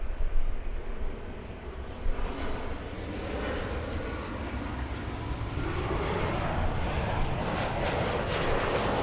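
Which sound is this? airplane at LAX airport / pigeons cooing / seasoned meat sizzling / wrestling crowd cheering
airplane at LAX airport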